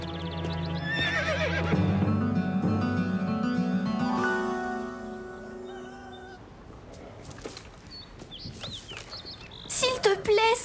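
A horse in a cartoon gives a long, wavering whinny over background music, followed by quieter rustling and a short burst of higher animal-like sounds at the end, with voices briefly present.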